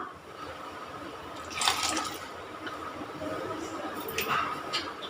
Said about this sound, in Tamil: இந்த ஜாரை கழுவி அப்படியே கொஞ்சம் தண்ணி ஊற்றிடலாம்.